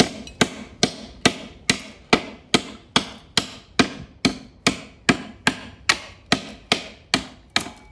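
Roof slate cut with a slater's knife over a stake, about seventeen sharp, close chopping strikes at a steady brisk rhythm, each with a short ringing decay.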